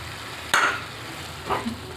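Four beaten eggs poured into a pan of methi for anda burji, with a steady background sizzle and a sharp splash as the eggs land, followed by a softer stir a second later.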